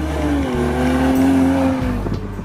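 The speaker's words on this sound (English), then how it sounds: "It rasps, it snarls when you really push it, and it's also got AMG Sport exhaust, so it'll pop and crackle, adding to the soundtrack." A Mercedes-AMG SLC 43 with AMG sport exhaust snarls loudly up through the revs, a rasping engine tone rising and holding near the microphone, with a brief drop and tire noise as it shifts.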